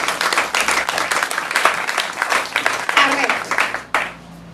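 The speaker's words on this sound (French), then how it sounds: "est-ce qu'on va acclamer Jésus?" A church congregation at a 2015 Christmas vigil breaks into applause and cheering to acclaim Jesus, a dense wash of clapping with voices mixed in that drops off sharply near the end.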